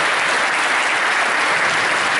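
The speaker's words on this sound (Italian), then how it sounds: "Allora, un applauso" Audience applause at a public talk on waste and work in Polesine, a dense, steady wash of many hands clapping loudly and evenly throughout, with no voices over it.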